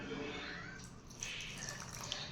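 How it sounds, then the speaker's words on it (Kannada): Water is poured into thick henna paste for a hair pack, giving a faint, brief splash and trickle with low background murmur. "ಸ್ವಲ್ಪ ನೀರು ಹಾಕೋತೀನಿ, ಒಂಚೂರು ಗಟ್ಟಿ ಇದೆ."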